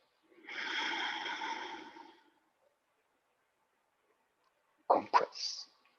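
A long, deep breath drawn in during an aikido exercise, a steady airy rush lasting about two seconds, then a short sharp double sniff-like burst after a pause.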